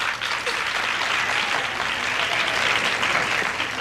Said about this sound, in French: On applaudit notre concurrente numéro 8